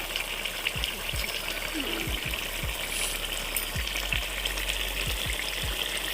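Green chilies, fish and potato frying in hot oil make a continuous hiss and spatter, with a series of dull low knocks from the pan or spoon every second or so.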